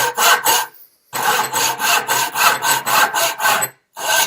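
Hand saw cutting through wood, close and fairly loud, with steady rhythmic back-and-forth strokes, a short pause near the start and another near the end, no talk.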